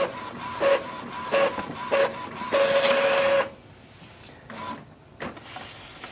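An Epson EcoTank ET-2720 printer runs through a series of rhythmic mechanical whirs and tonal motor pulses, ending in one longer feed before it falls quiet, with a few softer clicks at the end.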